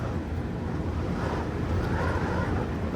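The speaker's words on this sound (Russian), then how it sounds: "Завывает довольно сильно ветер." Strong wind howls and buffets around a crane operator's cab, a steady, loud, broadband roar that fills the whole stretch with no voices over it.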